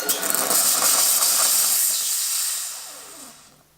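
An espresso machine steam wand steams milk into microfoam for a cappuccino, giving a loud, steady, close hiss that holds for about three seconds and then fades away.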